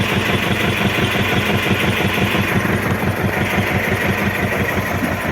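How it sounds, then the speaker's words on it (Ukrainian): A tractor engine idles close by with a loud, steady low rumble and rapid rhythmic chugging that holds even throughout. "І тракторець хороший."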